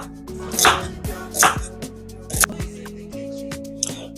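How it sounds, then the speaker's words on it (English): A knife chopping carrots on a board, a few crisp separate cuts spaced about a second apart, close and clear against a low background hum. "Just chop up the carrots"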